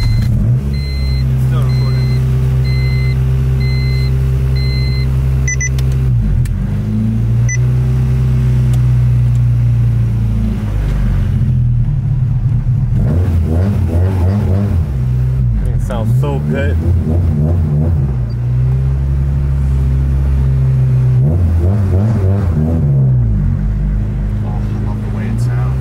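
A Honda Civic Si engine revs repeatedly, rising and falling in loud, tinny, raspy surges with a constant low drone underneath, close and dominant throughout.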